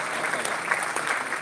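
Crowd at a company Founders Day celebration claps in a steady, moderately loud round of applause, dense and continuous throughout.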